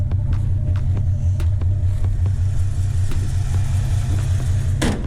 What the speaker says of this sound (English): Just gonna drive it real quick around, show you that it actually works.